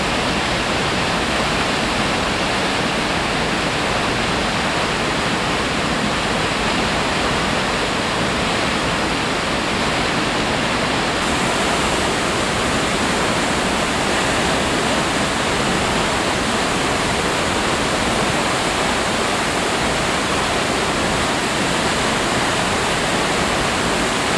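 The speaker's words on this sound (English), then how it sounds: "It's a magnificent falls, creating its own giant pool there." Koosah and Sahalie Falls plunging into a giant pool, a loud, steady roar of falling water that holds constant for the whole stretch with no talking.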